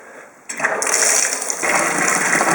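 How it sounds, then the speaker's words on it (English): Hot water gushes steadily from a tap into a sink, starting abruptly after a brief quiet moment and continuing as a close, even rushing splash with no talk. "I'm just going to put some hot water in this sink"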